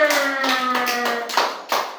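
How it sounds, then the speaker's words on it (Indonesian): Children in an Indonesian TPA classroom clap their hands: a voice rings out first, then a few sharp, separate claps follow near the end. "Tepuk tangan untuk kita semua."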